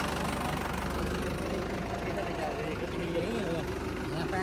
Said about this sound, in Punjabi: ਪੁੱਤ ਬੰਦ ਨਾ ਕਰਨੀ ਟਰੈਕਟਰ